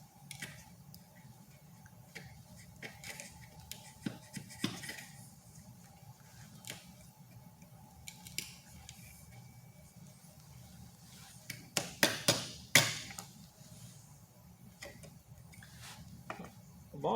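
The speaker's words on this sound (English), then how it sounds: "the true test of a sharp chisel is how it performs on soft end grain like this" A sharp hand chisel pares soft end grain of wood at a woodworking bench, giving faint, scattered ticks and light slicing clicks, with a brief cluster of crisper cuts near the end in a quiet room.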